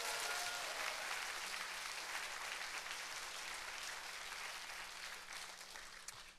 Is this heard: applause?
yes